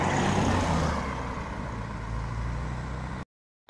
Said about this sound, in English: Stag there we are, that Stag passing again.